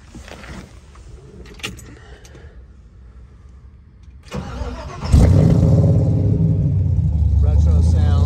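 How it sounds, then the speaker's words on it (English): A supercharged LSA V8 in a 1968 Chevrolet C-10 restomod truck with an aggressive exhaust: quiet idle and clicks, then the engine fires and settles into a loud, deep rumbling idle, with a voice talking over it. "This thing is nasty. Very aggressive exhaust system."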